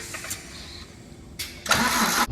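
A rebuilt Scania truck engine cranks briefly, pauses, then catches with a louder burst of starter grind and combustion, close and alone.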